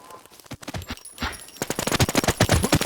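Rapid bursts of gunfire fill a shooter video game match, with a short burst early on and then a dense, loud stream of fast shots. Excited voices talk over it.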